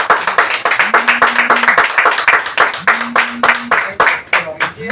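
An audience at a motivational business program claps in quick, uneven bursts, with a speaking voice running over the clapping throughout.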